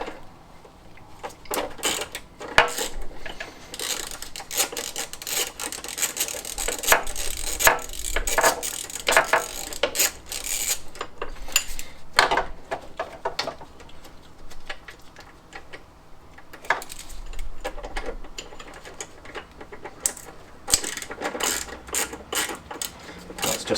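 A nut being undone with a tool while removing the engine from a classic Fiat 500, with irregular close metallic clicks and ratcheting taps and no talk.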